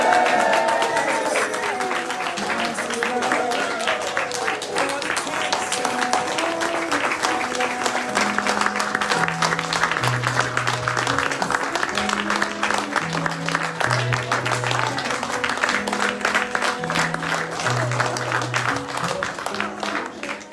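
Wedding guests at Airth Castle in Scotland applaud and cheer as the bride and groom leave, a dense, continuous crowd clapping layered over loud recorded music.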